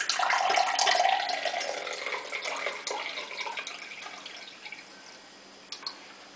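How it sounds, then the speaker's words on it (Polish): Water being poured off cooked asparagus from a pot into a sink, a close, steady splashing stream that gradually thins out to drips and trickles, with a couple of small clinks near the end and no talking. "najpierw przelejemy wodę z tych szparagów"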